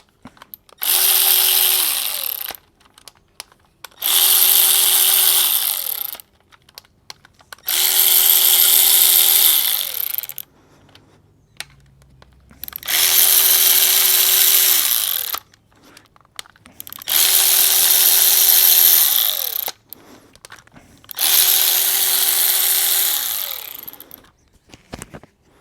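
A power tool spins out 10mm bolts from the reverse servo of a GM 4L80E automatic transmission in six loud, close bursts of about two seconds each, separated by short quiet pauses.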